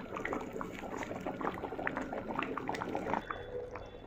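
Beans simmering in a pot with a dense, soft bubbling and popping texture, steady and fairly quiet at close range.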